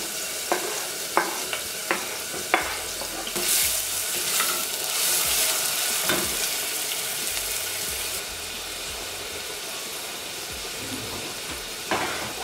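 Cut pepper and onion fry in olive oil for a home pasta sauce, giving a dense, continuous close sizzle with several sharp utensil clicks early on and a brief clack near the end; no talking.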